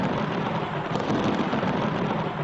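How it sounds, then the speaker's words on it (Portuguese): Heavy thunderstorm over Jerusalem at night, a continuous loud rumbling roar of thunder and rain filling the whole stretch without pause. "Naquela noite, uma tempestade se abateu sobre Jerusalém."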